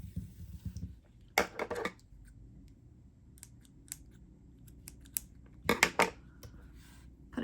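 Scissors snip through a long length of yellow yarn during crochet work, giving sharp, close clicking cuts in two short bursts separated by quieter handling.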